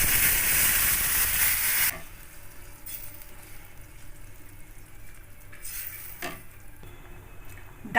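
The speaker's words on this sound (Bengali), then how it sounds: "ডালটা ফুটছে," Salted raw mung dal boiling in a pan with bottle gourd gives a loud steamy hiss for the first two seconds, then drops to a quiet, low bubbling with a few soft pops.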